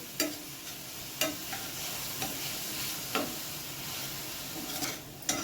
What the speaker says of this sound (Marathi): त्यामध्ये आपण वाटलेली मिरची टाकली, परतून घेऊया ती पण